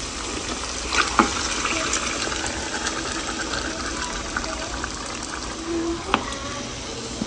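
Marinated beef frying in a pan for beef rezala, a steady broad sizzle running throughout with a few louder spits and clinks of stirring.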